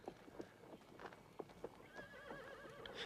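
A horse whinnies while its hooves clip-clop in an irregular rhythm, fairly faint and without talking.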